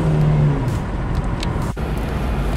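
A Subaru engine pulls hard under acceleration, a loud continuous roar with road noise and a brief shift-like dip partway through.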